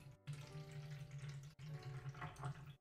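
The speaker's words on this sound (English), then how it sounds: "I have some water over here. I'm going to pour this in there." Water pours into the stand of a Buddha Board, a soft close splashing trickle broken by two brief pauses over about three seconds, quiet and with no talking.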